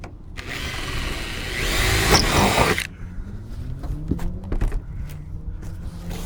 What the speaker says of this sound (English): So use that drill. Drill these holes now.